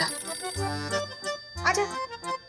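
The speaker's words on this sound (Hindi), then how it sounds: "जा फोन उठा" A telephone rings in a home with a repeated electronic ringtone, moderately loud, with a person speaking over part of it.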